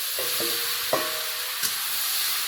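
Okra, potato and shrimp frying together in a pan produce a steady close sizzle, marked by a few short scraping stirs and no talking.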